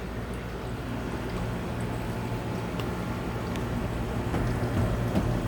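A repaired washing machine runs with a steady low hum and rumble, near and fairly constant, with no talking.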